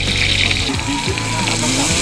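Food stir-fries in a hot pan in a Thai home kitchen, a loud continuous sizzle with scraping and stirring strokes, while someone talks over it.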